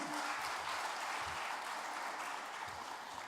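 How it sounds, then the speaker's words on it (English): An audience at an awards evening honouring true heroes claps loudly and continuously, a thick wash of applause that stays even for a few seconds. "Now, a big round of applause for all of you."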